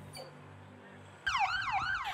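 A fire engine siren in Victoria, British Columbia bursts in after a low rumble, sweeping up and down in loud repeated cycles, fairly close.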